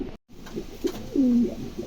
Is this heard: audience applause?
no